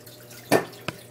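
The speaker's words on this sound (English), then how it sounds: "And now I'm just going to add 1 to 2 ounces of water." Water poured into a matcha tea bowl: a short splashing gush followed by a smaller second splash, close up and alone with no talk.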